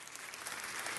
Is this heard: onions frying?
no